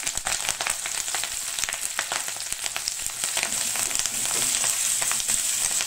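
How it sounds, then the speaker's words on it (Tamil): Sliced onions, curry leaves and green chillies fry in a pan for a Kerala prawns coconut fry, making a continuous close sizzle broken by frequent crackling pops and soft stirring scrapes, with no voices. "வெங்காயமும் நல்லா வதங்கட்டும்."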